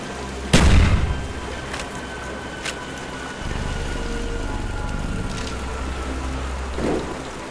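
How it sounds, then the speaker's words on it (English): A bomb explodes in Call of Duty Black Ops in Hong Kong with one sharp, booming blast that fades into a rumbling tail, followed by a steady rain-like wash and a few distant thuds. "Ve bomba atalım oraya"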